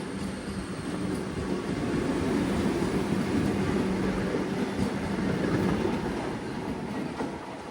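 An express train from Chikkamagaluru to Bengaluru runs steadily, heard from inside a general class coach. A continuous loud rumble of wheels and carriages holds at an even level throughout, with no voices.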